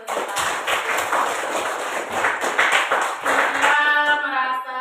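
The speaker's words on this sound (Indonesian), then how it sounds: "Tepuk tangan dulu untuk Siva." A classroom gives a student steady applause, many hands clapping together in a dense burst that lasts several seconds before a short musical tone comes in at the end.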